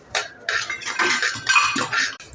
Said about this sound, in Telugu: అన్నీ బాగా కలిసేంత వరకు మిక్స్ చేసుకోవాలి